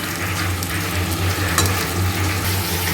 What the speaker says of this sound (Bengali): দেখো বেগুনগুলো সুন্দর করে ভেজে নিচ্ছে লাল লাল করে